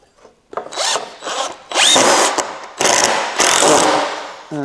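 A power drill drives screws into a homemade wooden outboard motor engine stand, loud whirring bursts rising and stopping in several pulses with grinding bite as each screw seats, close up.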